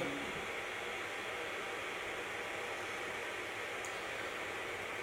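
Cooling fans of a 2019 Creality CR-10 V2 3D printer running, a steady broadband whoosh that holds constant throughout, close and even with no speech.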